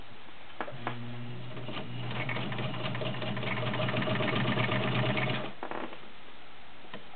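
A vintage Kenmore 1303 sewing machine with a size 16 needle stitches through six layers of Levi's denim: a steady, close motor whir with fast rhythmic needle clatter for about five seconds, then the machine stops.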